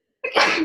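A single sharp sneeze bursts out after a moment of silence, close and loud, short and explosive.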